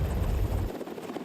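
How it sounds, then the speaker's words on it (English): A military rescue helicopter flies close by, its rotor thudding loudly and steadily, then the low rumble drops away as it passes. "These helicopters are made to take off and fly in winds that can exceed 100 miles per hour."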